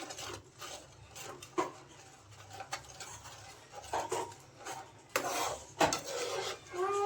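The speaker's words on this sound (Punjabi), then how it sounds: "ਹੁਣ ਆਪਾਂ ਇਹਨੂੰ ਸ਼ੱਕਰ ਨੂੰ ਵੀ ਮਿਕਸ ਕਰ ਲਾਂਗੇ ਜੀ" Besan sheera with shakkar (jaggery sugar) being stirred in a pot, giving repeated scraping and clinking of a spoon against the metal pan in irregular strokes, close and moderately loud, with no talking.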